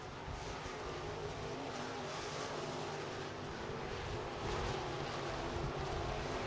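Race cars on a 3/8-mile dirt speedway run single file, a steady, loud, broadband engine roar with no break across the whole stretch and a slight swell near the end as they pass.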